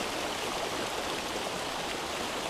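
A murky river flows in a steady, dense rush of water, close and continuous, with no other sounds.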